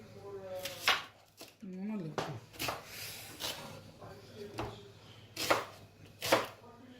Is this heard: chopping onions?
yes